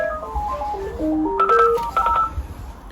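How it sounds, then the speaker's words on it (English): A mobile phone rings with a melodic electronic ringtone of rapid stepped beeps, loud and close, playing alone without talk. "My phone is ringing."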